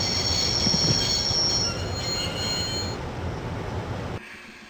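A train in the video game Broken Sword: The Shadow of the Templars rumbles along with squealing wheels and thin metallic whines on top, loud and steady before the sound cuts down sharply at the end.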